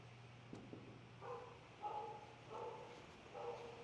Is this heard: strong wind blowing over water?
no